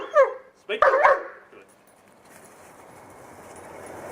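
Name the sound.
dog barking on speak command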